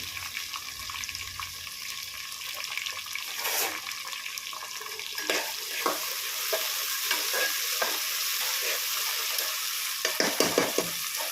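Green chillies fry and sizzle in a pan for prawn biryani, stirred continuously with a spoon, giving a steady bright frying hiss with scraping strokes in the later part.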